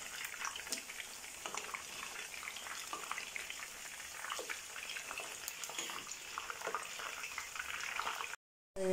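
Chicken pieces fry in hot oil with a steady, dense crackle and sizzle throughout, close and fairly quiet, with no voices, before the sound cuts off near the end.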